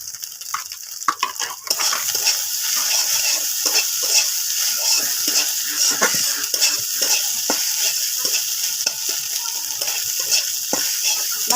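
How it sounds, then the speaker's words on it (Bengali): Egg filling for momos stir-frying in a pan, with a constant close sizzle, frequent scraping and clinking of the spatula against the pan, and a brief quieter start before the hiss picks up. "সুন্দর করে আছে ভাজা ভাজা হয়ে গেছে।"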